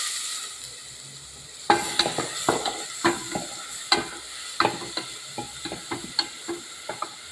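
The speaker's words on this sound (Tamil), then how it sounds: "வெங்காயம் நல்லா பொரியட்டும்." Small onions frying in oil in a pan with cardamom and bay leaf for a Kerala green gram curry, a steady soft sizzle broken by a series of sharp scraping stirs at irregular intervals, close and alone.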